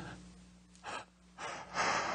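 A man imitates a big yawn with his voice, producing long breathy exhalations and gasps in several swelling waves, close and fairly quiet.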